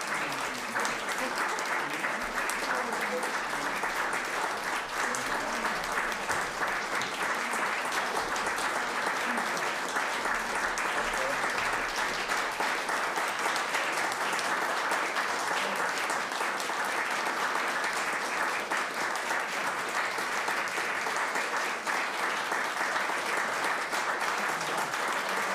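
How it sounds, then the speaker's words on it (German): Sustained audience applause following a lecture on early Frankfurt opera, dense steady clapping from a large hall crowd filling the whole stretch at even loudness, with no talk over it. "Ich freue mich riesig über Ihren Beifall."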